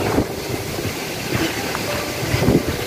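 Steady broadband rushing of strong wind buffeting outdoors, a continuous roar with gusty swells, no voices.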